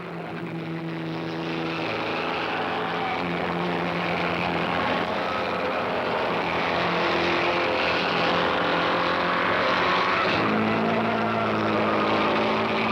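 Vintage Bugatti race cars at the first Monaco Grand Prix, heard as a loud, continuous droning engine with layered tones that shift in pitch near the end, with no talk over it.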